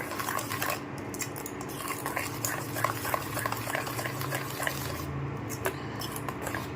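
A spoon stirs rose water into a homemade soap mixture, producing rapid, irregular clinks and scrapes against the container, close and fairly busy throughout, with no talking.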